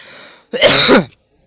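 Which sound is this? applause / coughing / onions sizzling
coughing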